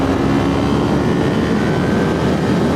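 A 400cc motorcycle engine revving hard near 8,000 to 9,000 RPM, a loud, steady, droning roar with dense buzzing harmonics held throughout, no voices over it.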